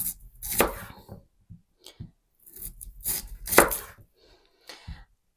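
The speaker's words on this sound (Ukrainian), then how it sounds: "Нарізаю такими кільцями." A knife chops through baked beetroot on a cutting board, slicing it into rings in a few separate bursts of crisp cuts, with short pauses between them.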